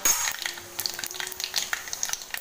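Mustard seeds crackle and pop sharply in hot oil for a simple moong dal tempering with curry leaves, cumin and asafoetida, a rapid, irregular sizzle of close, bright spitting sounds with no talk.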